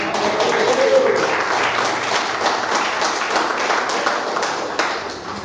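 A church congregation applauds during a sermon, a dense, steady wash of clapping hands filling the room for the whole stretch, with voices mixed faintly into the crowd noise.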